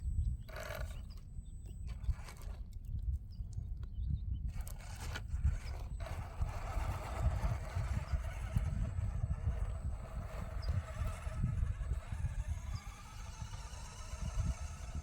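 A Hobbyplus CR-18P Evo V2 1/18 scale ready-to-run trail truck runs flat out in second gear and spins donuts. A steady mechanical gear whir and ratcheting rattle hold at a constant, fairly quiet level for the whole stretch, with no voices.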